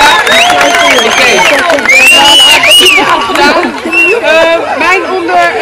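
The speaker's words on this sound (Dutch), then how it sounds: "Applaus voor al deze meisjes" A crowd at a Cruyff Court street football event applauds and cheers for a group of girls chosen for teams, loud clapping and whoops mixed with chatter and voices.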